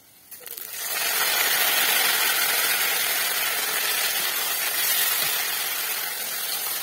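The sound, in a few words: onions frying in a wok for jackfruit curry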